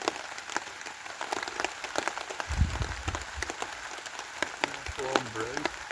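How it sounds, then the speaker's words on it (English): Rain falls at a woodland wild camp as scattered, crisp patters and ticks, steady and fairly quiet throughout, with a faint voice briefly underneath. "you can hear the rain started"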